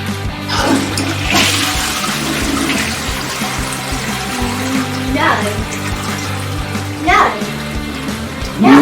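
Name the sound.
toilet flushing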